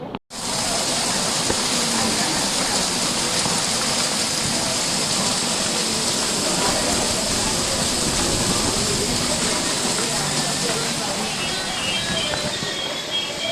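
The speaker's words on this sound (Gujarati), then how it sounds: "આમ જો કેવો જબરો વરસાદ આવે છે" Heavy rain pours down in a dense, continuous roar that stays loud and unbroken from just after the start to the end.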